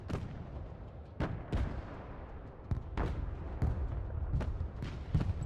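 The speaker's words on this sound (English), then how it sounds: "Artillery ready to fire, sir." Artillery fire in the video game Broken Arrow: a series of heavy booming shots at irregular intervals over a constant low rumble of battle, moderately distant and muffled.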